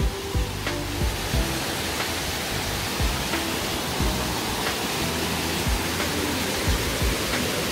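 Heebang Waterfall in Sobaeksan's Heebang Valley, heard from the top of the falls, gives a steady, dense rushing roar of falling water that holds unbroken throughout, with no voices.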